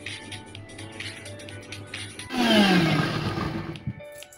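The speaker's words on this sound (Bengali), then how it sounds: "তারপর মিক্সিতে আমি মশলাটা পেস্ট করে নিলাম।" A kitchen mixer grinder blends mustard, poppy seed, black cumin, green chilli, tomato and coriander into a spice paste, starting with faint clinks and then surging into a loud whirring motor roar that winds down near the end.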